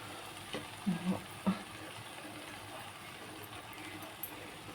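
Small cauliflower florets drop into a sizzling pan for a tomato cauliflower curry. A few soft clatters land near the start, then a low, steady sizzle carries on underneath.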